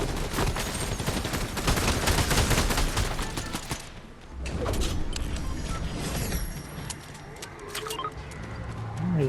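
Fortnite gunfire in a trios match, rapid bursts of game shots packed densely for several seconds, then sparser scattered shots after a short lull, with faint voices of players in the background.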